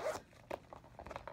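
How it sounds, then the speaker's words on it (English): A Louis Vuitton South Bank Besace crossbody purse zipper is pulled in a few short, soft rasping strokes, faint and close in a quiet room. "Zipper works really nice."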